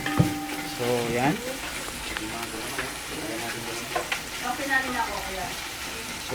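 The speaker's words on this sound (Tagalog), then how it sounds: "kailangan lang malakas konti ang apoy na para maluto yun yung sibuyas. Then, saute mo." Onion sautéing in a pan over high heat, a steady crackling sizzle with stirring scrapes, close and fairly loud, while a voice talks over it.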